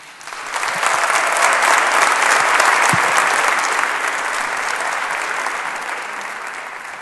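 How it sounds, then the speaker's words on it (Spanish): Audience applause at the formal opening ceremony of the Congreso Futuro 2019 science congress in Chile, a dense, steady clapping that swells within the first second and holds loud before easing slightly toward the end, with no talk over it. "Un aplauso para él."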